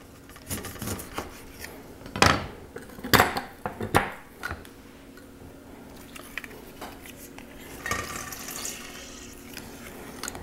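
Limes being juiced by hand into a small bowl with a stainless steel juicer, giving scattered squeezing, squishing and clinking sounds with brief sharp knocks and quiet gaps between them.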